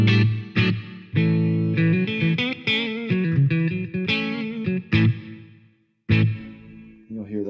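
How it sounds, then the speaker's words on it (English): A Peavey Vypyr Pro 100 guitar amp plays a slightly distorted guitar through a hall reverb with a large room size, chords and single notes ringing out with a lingering wash that fades between phrases. "a hall reverb is, based on a concert hall, a theater size room"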